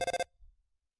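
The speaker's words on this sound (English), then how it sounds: "Hang on, my phone's ringing." A phone rings in the Undertale video game, heard as a short burst of rapid, bright electronic trills that stops abruptly and is followed by a faint low thump.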